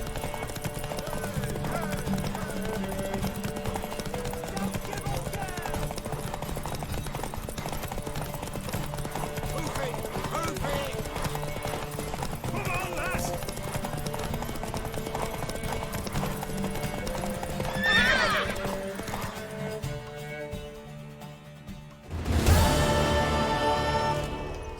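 Horse in The Witcher 3 video game trotting with steady clip-clop hoofbeats throughout, then a loud, close neigh near the end, with game music in the background and a voice speaking.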